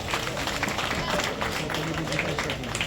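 A crowd claps steadily in dense applause for young child prize winners at a police-organised Run for Unity event, with a voice over the clapping.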